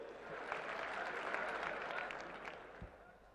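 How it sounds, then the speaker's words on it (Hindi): A crowd applauds with dense, continuous clapping that swells and then gradually fades, heard from a distance in a large space at a political rally welcoming Nitin Gadkari. "जोरदार तालियों से उनका स्वागत करें"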